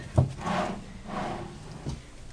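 Hotel closet drawers slide open and shut in a quiet room, with soft wooden thumps and two muffled sliding sweeps, fairly close.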